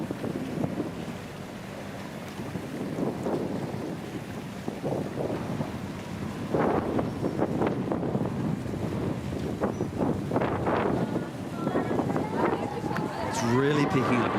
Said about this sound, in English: It's much windier up on the platform.